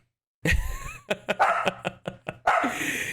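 A dog playing with its toy lets out a close run of short yips and whimpers, several quick squeaky bursts in a row with a longer whine at the start and end.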